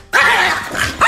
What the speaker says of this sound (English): This is my dog, and she loves me.